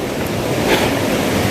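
A river flows with a steady, broad rush of water, loud and continuous throughout, with some wind noise mixed in.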